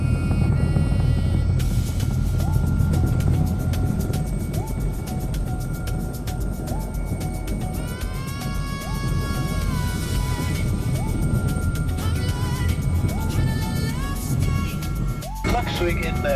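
A helicopter's rotor and turbine drone steadily inside the cabin on approach to a helipad in the Faroe Islands, a dense continuous rumble with shifting tonal whines and people talking under it.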